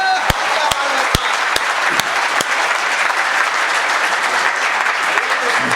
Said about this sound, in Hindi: पहले ही एक बार तालियों से दुआ सलाम तो हो जाए।